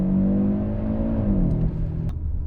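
A 2023 Audi RS3 pulls hard under full launch acceleration, a loud, close engine roar climbing and dropping through gear changes with no talk over it.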